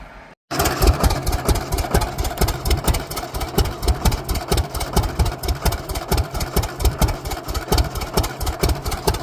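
A 1930 John Deere Export D tractor engine starts and runs with a loud, steady chugging beat, the firing pulses slightly uneven as it runs rough, close up and alone.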